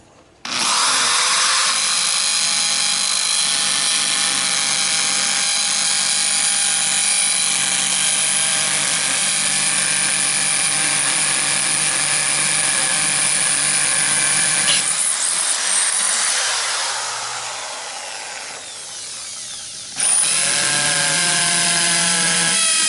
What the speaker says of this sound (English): So we are drilling it. That's a concrete pot.